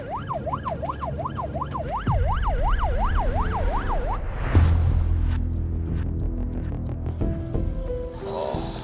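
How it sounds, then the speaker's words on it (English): An ambulance siren wails in a fast rising-and-falling pattern, loud and close, then cuts off and gives way to engine rumble and road noise. "this means lights and sirens because every second counts"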